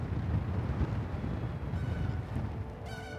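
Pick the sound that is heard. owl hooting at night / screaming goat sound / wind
wind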